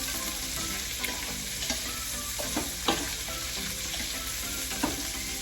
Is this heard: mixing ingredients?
yes